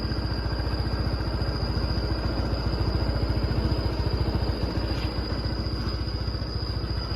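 A Honda PCX scooter engine idles close by with a steady, rapid putter and a faint whine, running evenly throughout.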